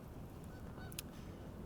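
Geese honk a few times in the distance over a steady, noisy outdoor background.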